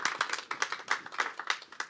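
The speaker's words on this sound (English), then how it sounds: "Maybe an applause." A conference audience claps in a brief, fairly small burst of applause, distinct individual claps in quick irregular rhythm, moderately faint, with no talking.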